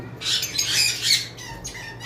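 Pet parrots at a breeding farm, including pineapple conures, cockatiels and lovebirds, give harsh, shrill squawks in a near-continuous chorus. The calls are close and loud, with no talking.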